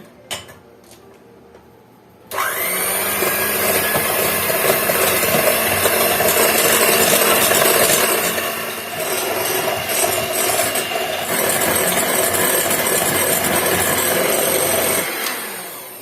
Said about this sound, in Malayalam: ഇതിലേക്ക് ഇത് ഞാൻ ബീറ്റ് ചെയ്യാൻ പോണേ